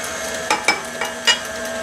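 A mixer beats an egg into creamed chocolate chip cookie dough in a bowl, with several sharp knocks and clinks of the beaters against the bowl over a steady motor whir.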